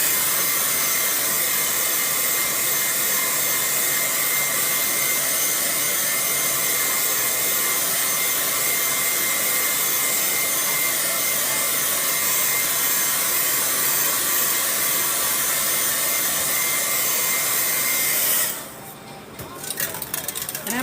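A hair dryer runs loud and steady for nearly the whole stretch, blowing on wet paint on a canvas, then cuts off near the end.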